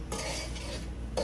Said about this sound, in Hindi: चलें जी फ्रेंड्स, सूजी हमारी भून रही है अभी